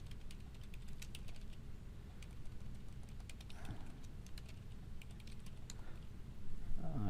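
Quick, irregular clicks of typing on a computer keyboard sound close up and fairly quiet, with a few louder key presses near the end and no talking.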